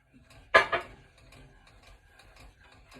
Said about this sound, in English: Take my spoon, get to stirring, add our slurry right in there.